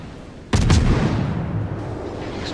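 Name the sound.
warship guns firing in the video game World of Warships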